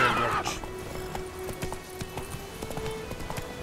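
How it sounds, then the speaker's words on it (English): A horse neighs and whinnies up close in the video game The Witcher 3: The Wild Hunt, its clip-clopping hooves thudding in a steady gait beneath, with a voice speaking briefly. "Whoa there, Roach"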